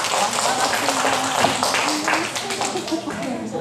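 Church congregation at a Sunday morning family service clapping together, a steady patter of hands under a voice speaking.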